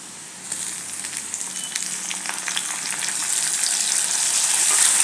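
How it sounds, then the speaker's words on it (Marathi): Chopped onion and tomato fry in oil in a pan for a potato curry; a dense crackling sizzle starts abruptly after a short quiet moment and grows gradually louder, with no talking. "आणि टोमॅटोही या कांद्याबरोबर थोडा आपण परतून देऊया"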